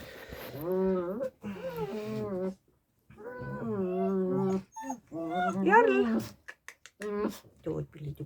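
Six-week-old puppies whimpering and yipping in short harmonic bursts, close and fairly loud, interleaved with someone talking to the dogs in Estonian.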